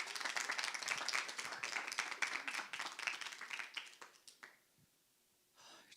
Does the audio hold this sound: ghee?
no